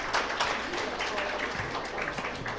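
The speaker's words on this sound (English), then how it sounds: "Give these guys a round of applause." A crowd applauds students at the end of a round of a civics bee contest, dense steady clapping filling the whole stretch at moderate loudness.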